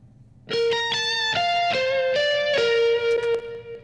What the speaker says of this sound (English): you can hear it kind of making that funk noise, where it's kind of distorting